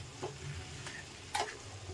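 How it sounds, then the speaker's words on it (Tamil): A spoon stirs warm milk into a banana snack mixture in a few brief, soft scraping strokes, faint and close, with quiet kitchen hiss between them. "சூடான பால், காய வச்ச பால், அதை கொஞ்சமாக ஊற்றி மிக்ஸ் பண்ணி"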